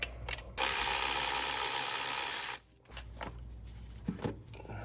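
A ratchet spins loose 13mm bolts from the clutch slave cylinder on a BMW E46 during a clutch and flywheel upgrade, with one long, loud, steady run of close clicking, then a short pause and a few scattered softer clicks and taps.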